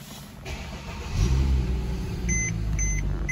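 A 2011 Mercedes-Benz C350 engine starts from a push-button ignition: a low rumble surges in about a third of the way through, then settles into a steady, close idle with faint electronic chimes above it and no talking.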